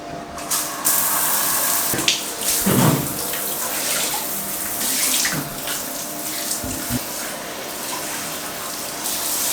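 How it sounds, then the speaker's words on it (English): Water runs steadily from a tap or shower as legs are rinsed off, a loud, close splashing stream with a few sharper splashes and knocks, no talking. "try and rinse these off so they don't stink of shit"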